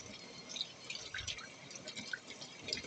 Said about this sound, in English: I've been trying to fill up this water bottle for an hour now so I can drink it.